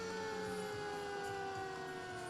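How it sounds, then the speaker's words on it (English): An ambulance siren wails with a steady, sustained tone as it passes in a coastal town holiday parade, loud and continuous above a rumbling crowd and street background. "EMS Milford ambulance."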